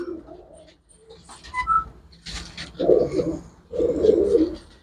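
Pigeons kept for sale at a bird market coo close by in soft, throaty rolls, a few chirps first and then two long low coos, with no talk.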